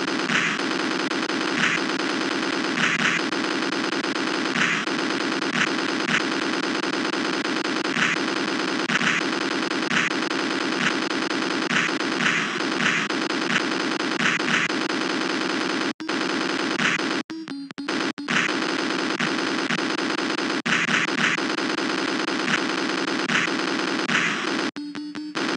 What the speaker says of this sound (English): We just got to shoot the crabs.